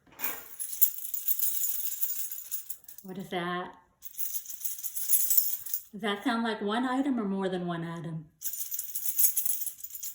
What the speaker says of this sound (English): Did you say keys? That's keys, isn't it? Lots of keys.